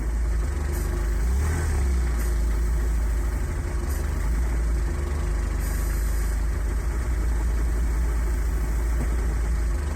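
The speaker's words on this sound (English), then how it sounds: "The engine is definitely not happy." A Ford Fusion 1.4 TDCi diesel engine running roughly on hydrogen and close to stalling, a low, uneven idle that throbs and stumbles continuously at steady volume for ten seconds.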